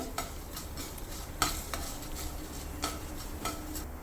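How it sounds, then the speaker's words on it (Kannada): Marathi moggu and green cardamom frying in a pan over a low flame, giving a faint, steady background sizzle with occasional light stirring scrapes and soft clinks, no voices. "ಮತ್ತು 3 ಹಸಿರು ಏಲಕ್ಕಿ ಹಾಕ್ಕೊಳ್ತಾ ಇದ್ದೀನಿ. ಸ್ವಲ್ಪ ಫ್ರೈ ಮಾಡ್ಕೊಳ್ಳೋಣ."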